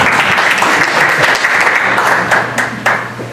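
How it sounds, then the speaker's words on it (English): An audience at a Silicon Valley tech meetup breaks into sustained applause, dense clapping throughout that eases slightly toward the end. "can everybody give a round of applause to Kate"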